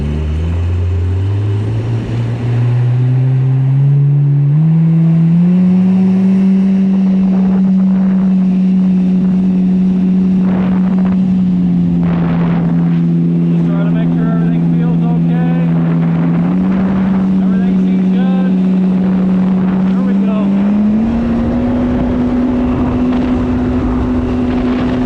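A speedboat with a swapped SHO engine idles on the water in neutral, giving a loud, steady motor drone whose pitch climbs early, levels off, then rises again near the end.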